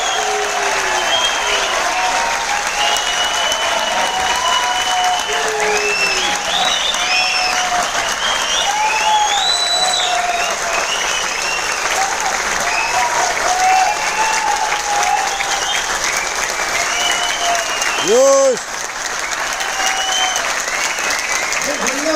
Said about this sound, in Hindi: ये तालियां कुछ भी नहीं, ऐसी गूंज होनी चाहिए ना ताली की